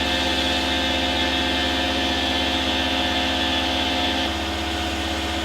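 A metal-cutting machine tool makes a dry cut without coolant, giving a loud, steady tonal whine and hum with a faint rhythmic chatter that drops slightly in level near the end.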